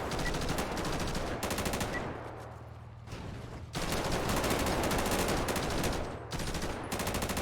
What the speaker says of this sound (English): automatic shots fired